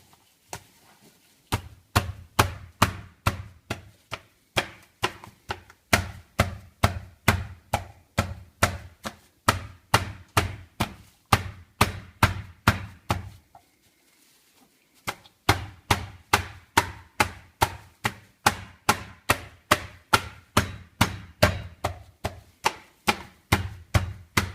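A whole chicken covered in cling film is pounded flat for chicken tabaka with a steady series of heavy, thudding blows, each one sharp and close. A short pause about two thirds of the way through breaks two long runs of regular strikes.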